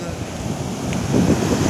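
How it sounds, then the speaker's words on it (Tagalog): Strong ocean surf crashes on the beach at San Juan, La Union, a surfing spot in the north, as a steady broadband roar with wind buffeting the microphone, swelling louder toward the end. "napakalakas ng hampas ng alon dito sa San Juan, La Union"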